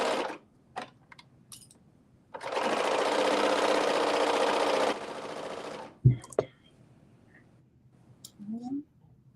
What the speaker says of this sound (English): We're working on the back seam, sewing the back seam pieces together